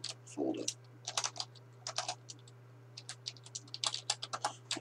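Quick, close taps on a computer keyboard type out a folder name in Unreal Engine, a steady run of crisp clicks over a low electrical hum, with no talking.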